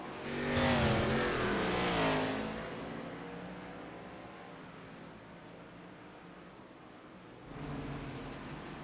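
A shiny red race car at a Montreal race roars past with a loud engine surge that rises and fades over a couple of seconds, then another car approaches near the end, heard from trackside.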